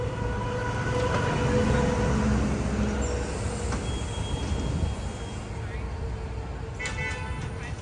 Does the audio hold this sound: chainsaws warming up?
no